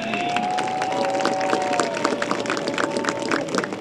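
A crowd at a 2012 college homecoming football game applauds the homecoming queen with steady dense clapping and some cheering, while a sustained tone from the stadium sound system lingers underneath.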